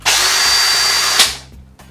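A power drill fitted with a drill brush spins up loudly in a steady whirring whine, holds for about a second, then cuts off and winds down with a brief mechanical rattle.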